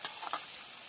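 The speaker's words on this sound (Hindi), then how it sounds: "और फिर लहसुन का तड़का। अच्छा। ये इसको थोड़ा हिला लेंगे, हिला के ये ब्राउन हो जाएगा" Garlic tempering for tadka sizzles and is stirred in a pan, a brief soft frying hiss with a few light scraping ticks.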